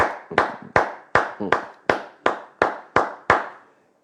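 A church congregation claps during a French-language sermon: about ten sharp, evenly spaced claps in steady rhythm, each ringing briefly in the room before the next.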